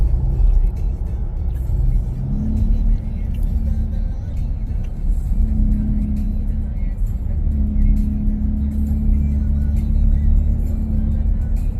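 A car heard from inside while driving along a road out of town, with a steady loud low engine and road rumble throughout and a few rising engine tones as it accelerates.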